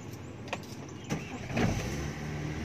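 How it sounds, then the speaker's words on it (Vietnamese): A 2003 Daewoo Lanos car engine cranks briefly and catches, settling into a steady low idle, heard close up with no talk. "đề phát là xe anh nổ máy rồi."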